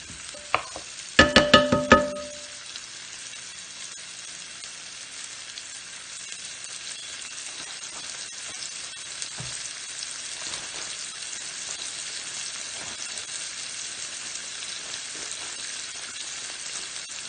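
Tomatoes hitting a hot pan for saltfish and collard greens rice pilaf: a loud burst of clattering and sizzling at the start, then a steady, softer frying crackle continuing close by without speech.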